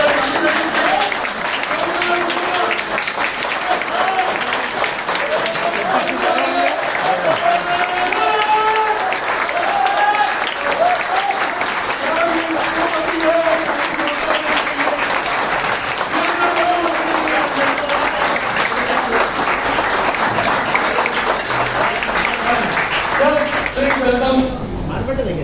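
An audience claps steadily at a business meeting in a hotel in Maninagar. The dense applause runs the whole time, mixed with crowd noise and voices.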